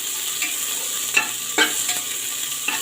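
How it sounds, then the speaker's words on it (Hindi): Onions fry in a pan for matar pulao with a constant close sizzle, broken by a few light scrapes as a spoon stirs them. "प्याज को ब्राउन होने तक भूनेंगे।"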